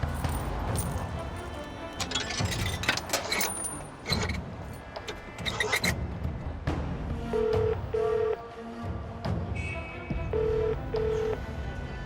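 A telephone call is dialed with a burst of clicks and key tones, followed by several short, evenly spaced ringback tones while the call goes unanswered; no one speaks over it.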